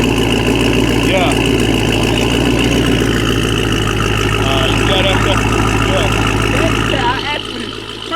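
Dodge Scat Pack with a catback exhaust idling in a loud, steady low burble that eases off near the end, close by, with voices talking over it.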